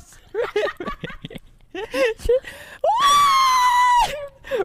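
A woman lets out a long, high, sustained scream during a spooky multiplayer game with proximity chat, preceded by excited chatter and brief laughing sounds.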